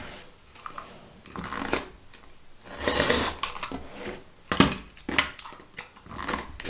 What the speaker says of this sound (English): holding it nice and firm and just simply cut